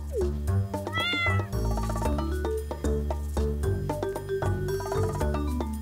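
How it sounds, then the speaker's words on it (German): A cartoon cat meows repeatedly in the farming video game Stardew Valley, the meows layered over a steady, bright game music track with plucked melodic notes. "Wir haben jetzt eine Katze namens Mau"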